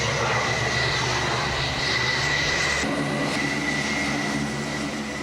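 Jet engine roar from an F-14 Tomcat on approach to an aircraft carrier, a loud, steady sustained drone that shifts in pitch partway through as power changes, with no talk over it.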